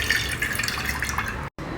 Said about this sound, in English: So we'll just extract the juice like this.